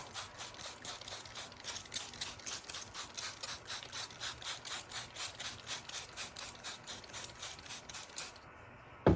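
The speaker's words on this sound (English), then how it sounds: "we're gonna go ahead and give this a good spritz." Hand spray bottle spritzing a seed starting tray for dahlias, a quick run of about twenty evenly spaced, close, soft hissing puffs in steady rhythm, ending with a brief click.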